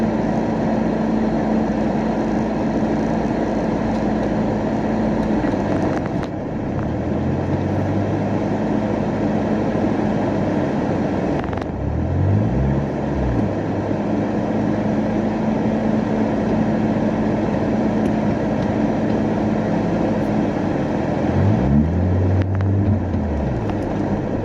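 A Plymouth Laser engine drones steadily from inside the cabin as the car drives, a loud constant rumble with a few swelling passes of other traffic cutting through.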